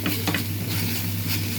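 Ginger garlic paste sizzles in hot oil in a pan for a cabbage curry, with a spoon stirring and scraping through a close, steady frying hiss.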